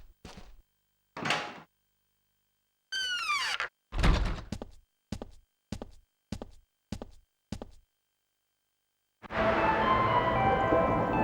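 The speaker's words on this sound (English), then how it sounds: "I really didn't want to unlock this door" A door unlocks in the PS2 video game Gregory Horror Show: a sharp clunk, then a creaking tone, followed by a series of regular metallic clicks and thuds, and finally a sustained, busy ambient swell.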